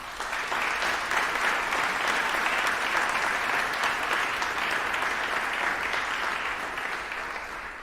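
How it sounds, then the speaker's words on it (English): Audience at the classical finals of an international strings competition breaks into loud, sustained applause, dense clapping holding steady for several seconds before easing slightly at the end. "May we just give them a large round of applause."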